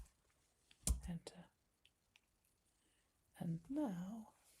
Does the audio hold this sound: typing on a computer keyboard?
yes